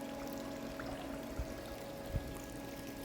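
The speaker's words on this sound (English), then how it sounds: "It does have a water feature right there as well." A water feature trickles and pours steadily beside an outdoor pool at a courtyard villa, a constant close wash of running water with a couple of faint splashes and no talking.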